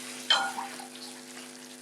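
Chicken wet fry with cooking cream sizzles and frizzles in a pan as soy sauce is poured in, giving a sharp burst of hissing that settles into a steady, moderate crackle close by.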